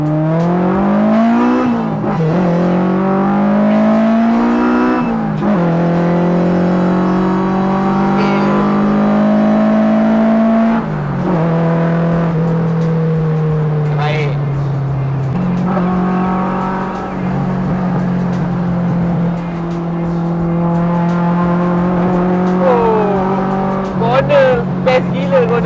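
Proton Satria R3 hatchback engine revving hard through climbing gear changes and cornering, a loud, sustained rising-and-falling drone with shifts, with someone talking over it.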